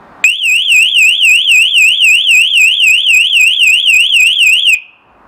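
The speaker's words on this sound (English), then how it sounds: "Let's shut the lid and then connect the sounder. Now let's test it." A freshly connected burglar alarm sounder blares close and very loud for about four and a half seconds, a rapidly warbling electronic siren that cuts in abruptly and stops sharply.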